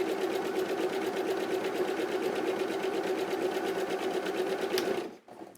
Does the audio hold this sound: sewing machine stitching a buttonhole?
yes